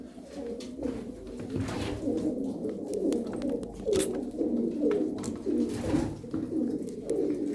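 A flock of about twelve tumbler pigeons coo in soft overlapping low phrases at close range, a continuous murmuring chorus with no talking.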